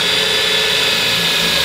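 A KEYANG DM18BL-W cordless drill driver drives a roof-frame screw, giving a loud, steady, close motor whine that holds without pause for the whole short burst.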